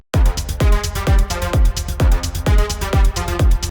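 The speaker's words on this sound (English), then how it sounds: "And on top of that, we need an off hat." A modern techno groove with a steady four-on-the-floor kick and an off-beat hi-hat ticking between each beat, loud, bright and repetitive, running alone without any voice.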